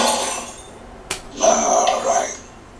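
Glass clinks sharply once during a toast with drinks, followed by a longer ringing, rattling spell of glassware, fairly close and with no talk over it.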